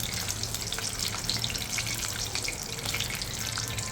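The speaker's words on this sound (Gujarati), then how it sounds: "કાજુ ગોલ્ડન બ્રાઉન થાય ત્યાં સુધી આપણે ફ્રાય કરીશું" Cashews frying in oil in a pan for a Jain kaju mutter pulao, a steady close crackling sizzle with scattered pops, with no talk.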